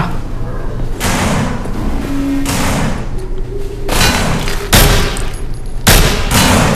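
Loud, close bursts of gunfire in the zombie survival game No More Room in Hell, with sharp volleys landing roughly every second amid a dense, noisy mix.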